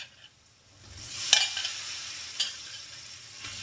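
Potatoes tipped into a frying pan and stirred, with a soft steady sizzle, a sharp clatter as they land, then a lighter scrape of stirring, close and moderately quiet.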